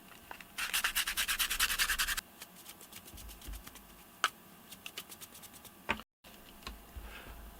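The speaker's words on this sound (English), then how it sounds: "So I'm gonna try and sand that off completely." Sandpaper rubs the rubber coating off a pair of Skullcandy headphones in a quick burst of rhythmic strokes, followed by a few isolated scrapes and taps, close and fairly quiet.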